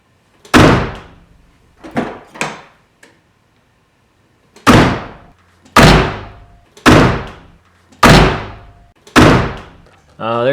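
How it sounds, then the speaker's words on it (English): Toyota MK3 Supra door with the window half up and rattles reduced closes again and again, a series of sharp, close thumps at a fairly regular pace with smaller latch knocks in between. "Door closing after improvements with the window half up."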